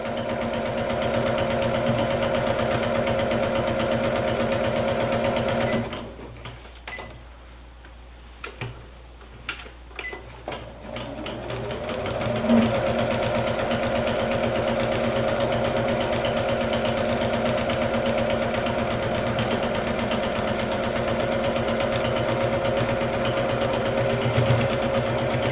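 Sewing machine stitching a utility bag liner, a steady rapid mechanical whir that stops briefly for a few seconds of quiet clicks, then resumes and runs continuously.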